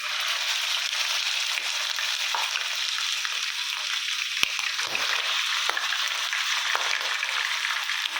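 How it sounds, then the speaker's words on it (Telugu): Minced mutton keema dropped into hot oil sizzles loudly and steadily, a dense close hiss with a few stirring clicks and scrapes. "ఆయిల్ వేడెక్కింది. కైమా వేసేసుకుందాం."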